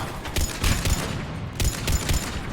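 Mounted gun under Cerberus control in Mass Effect 3, pounding out rapid heavy shots in two clustered volleys with a short pause between, loud against steady battlefield noise.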